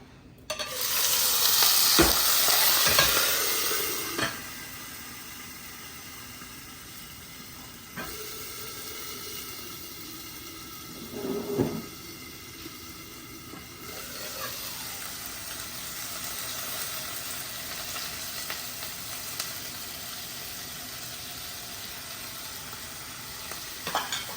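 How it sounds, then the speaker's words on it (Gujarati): Rice sautéing in ghee in a pot for a cashew paneer pulao, a steady low sizzle with stirring scrapes and a brief louder hiss near the start, no voices. "પહેલાં આપણે રાઈસને ઘીમાં એકદમ સોતળી લઈએ"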